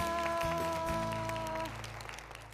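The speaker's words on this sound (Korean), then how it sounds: "박수 부탁드립니다" Indoor applause from a church audience, steady clapping under a sustained musical tone that fades partway through.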